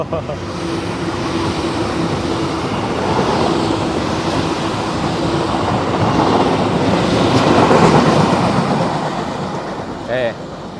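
A passing train rumbles by as a loud, broad roar, heard from aboard the Sembrani express on a Jakarta trip, building and swelling steadily over about ten seconds.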